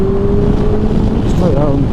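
A Kawasaki GTR 1400 touring motorcycle accelerating, its engine note rising in pitch under heavy wind rush, loud and close throughout a short burst.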